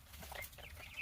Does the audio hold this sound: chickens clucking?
yes